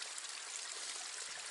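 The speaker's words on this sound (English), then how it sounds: "you can't beat this fresh mountain spring water" Fresh mountain spring water on the Appalachian Trail flows in a steady, close stream with a continuous hiss and no voices.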